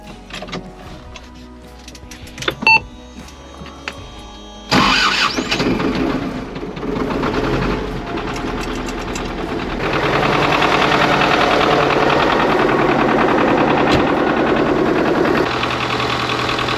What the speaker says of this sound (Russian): Завожу трактор.